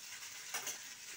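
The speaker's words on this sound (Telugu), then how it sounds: "ఇలా పండు మిర్చిని మనం ముక్కలుగా కట్ చేసుకొని వేడి చేయాలి. కొంచెం ఫ్రై చేస్తున్నాం." Chopped ripe red chilies fry in a pan for a tomato-chili chutney, giving a steady soft sizzle with stirring scrapes and a brief louder burst midway, close and alone with no talking.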